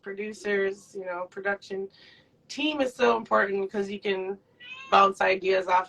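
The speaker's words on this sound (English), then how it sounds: "sorry about my cat. She's really loud tonight." A loud cat meows repeatedly indoors at night, mixed in with someone talking continuously during a live interview.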